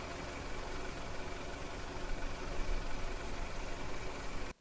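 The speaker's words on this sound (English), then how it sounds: "it's car idling sound" A car engine idling as a sound effect: a dense, steady rumble with constant low throb and broadband hum, unchanging in level for over four seconds before cutting off abruptly.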